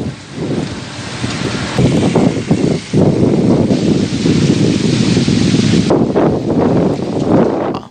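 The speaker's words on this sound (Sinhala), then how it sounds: "අද පස්වරුවේ කොළඹ ප්‍රදේශයේ දැඩි සුළං තත්ත්වයක් දක්නට ලැබුණා" Strong afternoon wind gusting across Colombo, a loud, continuous roar and buffeting against the microphone that swells and dips over the whole stretch, with no voices.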